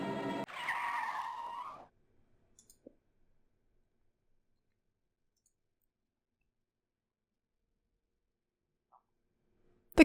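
Car braking hard and skidding in the Kaidan Restaurant DS game, a short loud screech lasting under two seconds, then near silence with faint clicks.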